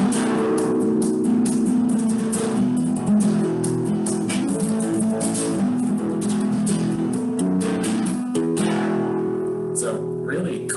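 A flamenco guitar plays alegrías, a joyful style, with busy, bright strummed chords and sharp percussive attacks running continuously, close and steady in loudness.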